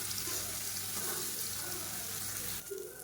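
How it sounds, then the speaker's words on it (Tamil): Paneer frying in hot oil, a loud, steady hiss and sizzle close by that holds evenly throughout, ending in a brief clatter as the pan is shifted. "இப்போ எண்ணெய் நல்லா சூடாகிடுச்சு. இந்த பன்னீர் வந்து இதில் போட்டு நம்ம ஃப்ரை பண்ணி எடுத்துக்கலாம்."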